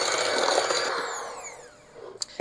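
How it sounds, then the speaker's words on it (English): An electric kitchen mixer creams sugar and butter for Swedish sugar dream cookies, giving a loud close whirring whine that slows and fades, followed by a few sharp knocks. "I don't know why mixers have to make so much noise"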